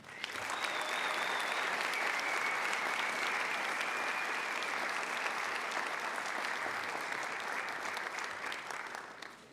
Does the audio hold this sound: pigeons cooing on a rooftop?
no